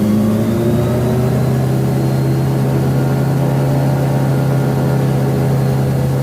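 Engine of a SLING 4 light aircraft revved to 4,000 rpm, a loud, steady, droning propeller hum that holds even and close throughout with no talking.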